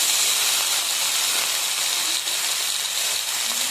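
Vegetables for Bengali shukto fry in a pan with a loud, steady, close-up sizzling hiss that barely varies throughout.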